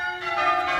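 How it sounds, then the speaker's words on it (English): Wedding bells ringing, a sustained bright metallic tone rich in overtones that swells slightly over a brief moment, loud and clear. "Just listen to those bells. Aren't they magnificent?"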